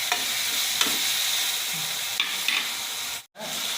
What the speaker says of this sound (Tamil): கொஞ்சம் வதங்கட்டும் கத்திரிக்காய்.